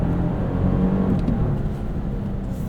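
A Lexus GX 550's 3.4-liter twin-turbo engine, paired with a 10-speed automatic, hums steadily from inside the cabin, a low continuous drone with slight rises in pitch as the SUV pulls along, no voices over it.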